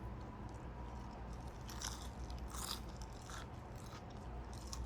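Bites into a crispy, flaky phyllo spiral filled with spinach and cheese, giving a few close, soft crunches and crackles over a steady low background hum, with no talking.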